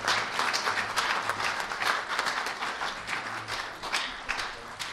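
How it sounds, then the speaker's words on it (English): A church audience claps together, a steady wash of applause that holds at a moderate level for several seconds. "Would you give this wonderful couple a nice hand clap of appreciation?"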